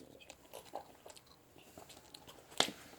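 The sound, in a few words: eating and chewing spicy food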